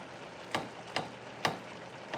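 A knife chops baby bella mushrooms on a cutting board in a home kitchen, giving four quiet, crisp cuts spaced about half a second apart over a soft room hiss.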